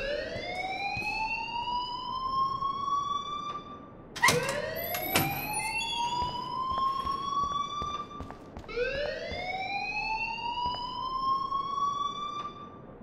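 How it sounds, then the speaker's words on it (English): In the video game Life is Strange, a fire alarm wails steadily in repeating rising sweeps, each several seconds long, over a constant background hum, with a brief clatter partway through and no speech. "please turn off that alarm"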